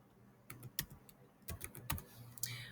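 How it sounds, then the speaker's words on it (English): A date is typed on a computer keyboard: a quiet, irregular run of separate key clicks in small clusters, close and soft, with no talking. "and you can type the date"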